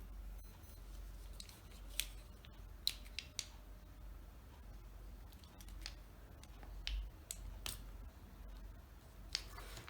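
Scissors snip into an iPhone battery in a quiet room, with a few sharp, isolated clicks and cuts scattered irregularly over a low steady hum, fairly close but soft.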